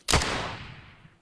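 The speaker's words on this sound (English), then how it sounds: "example of a gunshot, one of many you heard in the gameplay demo" A single gunshot sound effect, designed in Unreal Engine's MetaSounds for a video game demo, hits as a loud sharp blast and then decays in a long fading tail.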